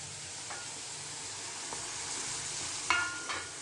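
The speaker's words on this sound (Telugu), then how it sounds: "ఈ గ్రీన్ పీస్ ఉంది కదండి, దీన్ని కూడా వేసుకునేద్దామండి" Green peas sizzle and fry with vegetables in a pan for vegetable biryani, a steady close hiss with a few stirring scrapes and a brief louder burst near the end.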